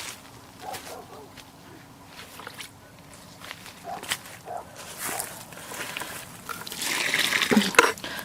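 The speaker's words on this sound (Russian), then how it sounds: "Сейчас я залью водой." Water is poured into a planting hole dug for peonies in garden soil, with faint footsteps and scattered rustles first, then a building splash and gurgle near the end, close by.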